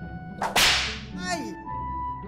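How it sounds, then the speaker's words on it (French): A whip cracks once, sharp and loud, lashing a small prince's shoulders in a French folk tale from the Hauts de France, followed by a fainter whistling swish and a lingering tail. "il lui arrivait parfois de caresser à coups de fouet les épaules du pauvre petit prince"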